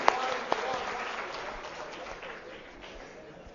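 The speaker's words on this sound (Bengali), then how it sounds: "ওনার জন্য একটা জোরে হাততালি হয়ে যাক প্লিজ" Loud applause breaks out for a speaker at an HR convention, a dense crowd clapping with a couple of sharp claps at the start before the sound slowly fades over a few seconds.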